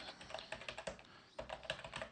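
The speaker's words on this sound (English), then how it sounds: "Let me just see if I am typing in this right." Typing on a computer keyboard while entering code, a quick uneven run of close, quiet key clicks with a brief pause midway.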